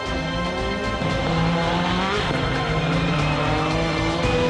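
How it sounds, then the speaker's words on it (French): Two rally cars, one with a big engine and one with a small one, accelerate side by side in a head-to-head duel at a motorsport festival, engines roaring loudly with shifting revs and a hint of tire squeal. "À l'accélération, le gros moteur contre le petit et Paillet passe."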